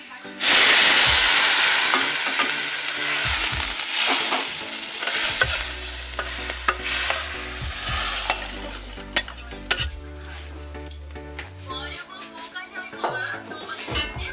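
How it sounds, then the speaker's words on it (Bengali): Chicken momo filling frying in a pan as vegetable-boiling water is poured in, giving a loud burst of sizzle that settles into steady bubbling frying with stirring and occasional utensil clinks. "তারপরে যেই সবজিগুলো সিদ্ধ করার যেই জলটা সেটা এর মধ্যে দিয়ে দিতে হবে। একটু ভাজা ভাজা হবে।"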